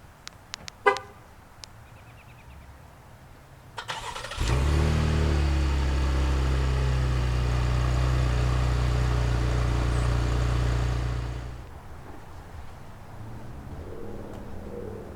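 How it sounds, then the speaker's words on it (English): A 2018 Buick Enclave is started remotely: brief chirps sound first, then the engine cranks, catches and settles into a steady, close idle for several seconds before shutting off. "remote start is also included across the board"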